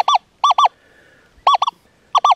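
Loud, close electronic beeps from a metal detector's target signal sound in quick pairs, repeating several times with short silent gaps between them.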